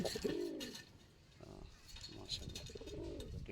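Pigeons cooing close by in a loft, soft rolling calls repeating every second or so, with faint background noise between them.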